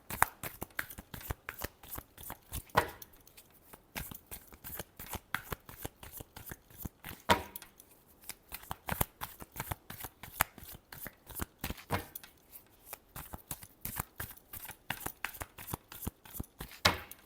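Tarot cards shuffled by hand in steady rapid riffling bursts, close and crisp, with brief pauses between rounds and no talking.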